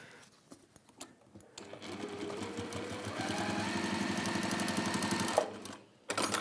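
Close by, a sewing machine stitches coated fabric for a journal cover in one sustained run of rapid mechanical whirring that speeds up and then stops, with quieter handling sounds before and after.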